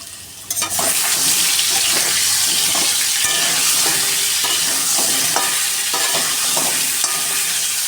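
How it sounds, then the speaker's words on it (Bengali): Potatoes fry in oil for a chicken curry with a loud, dense crackling sizzle that starts abruptly and stays intense, with stirring clatter mixed in. "আর চিকেনের জন্য আলু ভাজতে দিয়ে দিয়েছি।"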